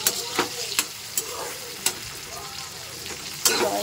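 A cashew mixture cooks in a pan with a soft, steady sizzle. Sharp spoon scrapes and taps cut in at irregular intervals, close by, and no one speaks.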